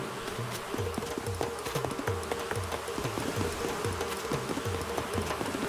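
An insect swarm buzzes steadily in Animal Crossing: New Horizons, a dense continuous drone laced with repeating rhythmic thumps, with no voices over it.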